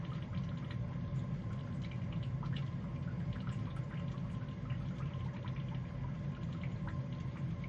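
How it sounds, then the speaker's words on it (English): Water drips from the trap of a steam radiator, heard as steady broadband hiss with faint tapping ticks throughout, close and continuous with no talking. "Okay, the trap, it's opened up a little bit more. The drips are faster now."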